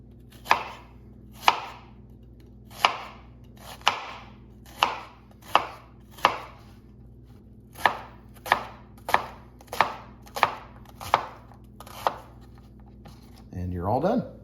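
Knife cutting slits into an onion on a cutting board for a Mississippi chuck roast, about sixteen crisp close chops in an uneven rhythm, ending with a brief rustle.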